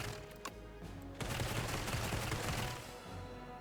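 Claw Barrage attack effect from the Defect in the video game Slay the Spire, a rapid clattering burst of hits lasting about a second and a half over steady background game music.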